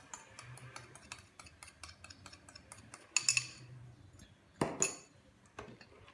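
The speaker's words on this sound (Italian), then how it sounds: "mescoliamo per bene finché il tutto non si ricomporrà alla perfezione" A utensil stirs red velvet cake batter in a bowl, giving a steady run of quick ticking scrapes and clinks with a few louder knocks against the bowl, close up and with no talk.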